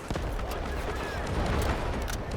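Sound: gunfire in video game Delta Force

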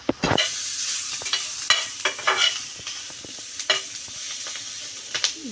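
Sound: frying green chillies in a pan

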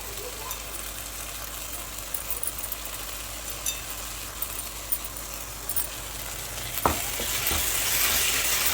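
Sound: tomato, mint and coriander leaves frying for biryani

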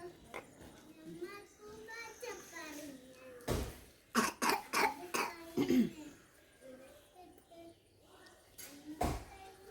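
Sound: child coughing

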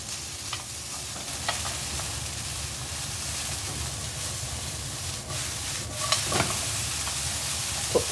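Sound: stir-frying yakisoba noodles with bean sprouts in a pan

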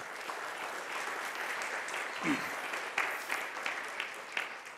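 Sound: congregation applause in church

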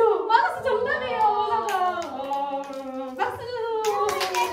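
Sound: children clapping hands

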